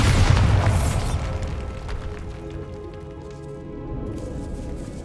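A Bombarda blasting spell goes off in Hogwarts Legacy inside a decayed catacomb, a loud booming burst at the start whose rumble and debris patter fade over several seconds.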